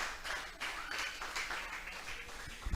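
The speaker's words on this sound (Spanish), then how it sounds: "Vamos a brindarle un fuerte aplauso a nuestro Dios" A congregation at a church service breaks into scattered, fairly faint clapping that carries on steadily for a few seconds.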